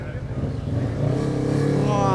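A car engine starts and revs up, its rising mechanical roar growing louder and steadier over about two seconds while voices talk nearby.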